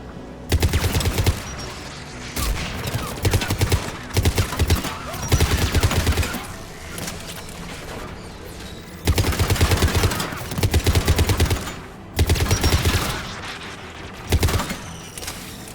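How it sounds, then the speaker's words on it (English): Anti-aircraft guns in the Mass Effect 3 video game fire in loud, sustained bursts of rapid rounds, separated by short lulls and repeating several times, with voices occasionally speaking over the barrage. "AA guns ahead of us."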